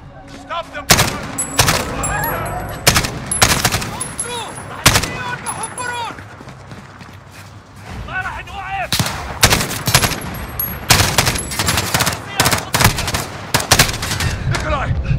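Gunfire in the Call of Duty Modern Warfare mission Old Comrades, loud bursts of rifle and automatic fire cracking in rapid, irregular volleys with brief pauses, with shouted voices mixed in.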